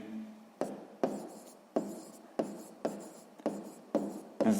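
A pen writes in a school notebook during a sixth-grade maths exercise, with about eight close, scratchy strokes in a quick, steady rhythm and no voices.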